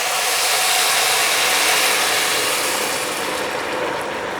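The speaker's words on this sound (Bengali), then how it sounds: "আমি 2 কাপ পরিমাণ চালে 4 কাপ পরিমাণ গরম জল এখানে দিলাম" Hot water poured into two cups of fried basmati rice in a pot, a steady loud rushing hiss with bubbling sizzle that holds evenly throughout and eases slightly near the end, with no voices.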